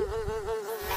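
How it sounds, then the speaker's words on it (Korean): Mosquito buzzing as a steady, close, high whine with a faintly wavering pitch that holds for the full second, alone with no voices. "Nasty, pesky, blood-sucking mosquitoes."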